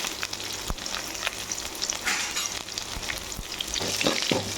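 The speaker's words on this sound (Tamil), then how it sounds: "நல்லா பொன்னிறமாக வதக்கிடணும்." Small shallots sizzling in hot oil in a pan while being stirred for a Thanjavur-style onion rasam, a steady close frying hiss with occasional scrapes and pops.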